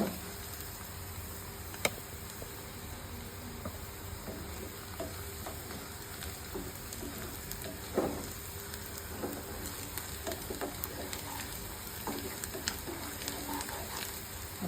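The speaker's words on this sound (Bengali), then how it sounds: "আমি পেঁয়াজ ভেজে নিচ্ছি প্রায় পেঁয়াজটা হয়ে যাচ্ছে" Onions frying in oil for beresta while cooking a Bengali beef head meat curry, a steady low sizzle with occasional stirring clinks and scrapes throughout, fairly quiet and close with no talking.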